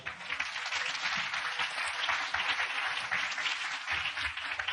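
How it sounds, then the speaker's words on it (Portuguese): A church congregation gives a dense, continuous round of applause that stays even and full throughout, a wash of many hands with no speech on top. "Dê a Jesus uma salva de palmas"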